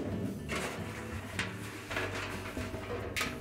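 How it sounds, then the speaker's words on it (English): The drum of a Whirlpool dryer is pulled out, producing close scraping and sliding noises with several brief metallic rasps and bumps. Nobody speaks. "And then we can pull that drum completely out."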